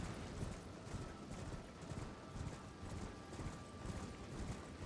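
The spirit horse Torrent gallops down a path in Elden Ring, its hooves making a steady, fairly quiet clip-clop rhythm that runs throughout with no talk.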